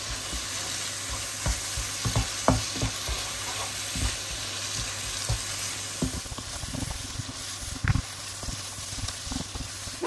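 Onion, carrot and tomato paste sauté in a pan with a soft steady sizzle. A spoon stirs the food in repeated irregular scrapes and clacks close by, with no talk.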